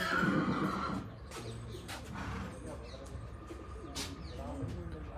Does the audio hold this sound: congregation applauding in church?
no